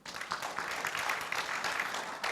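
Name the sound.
audience applause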